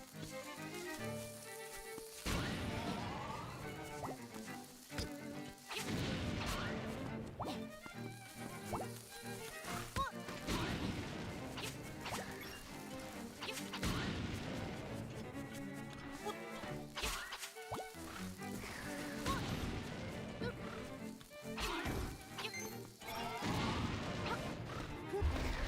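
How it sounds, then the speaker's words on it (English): Repeated bomb blasts hit ghosts in The Legend of Zelda: Link's Awakening on Switch, a run of loud crashing explosions with short gaps between them, mixed with game music throughout. "I am going to blow up these ghosts with my last 7 bombs"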